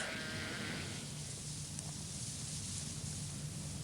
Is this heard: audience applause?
no